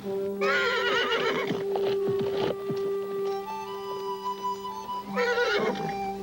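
A horse neighs loudly and close by in a long shrill whinny, then falls quiet before a second shorter neigh near the end.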